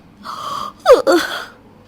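Cartoon woman yawning, a breathy drawn-out vocal sound that rises into a sharp gasping peak and then trails off, close and fairly loud.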